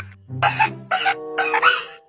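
A child gives three short, close coughs in quick succession, each a rough, breathy burst in a quiet room.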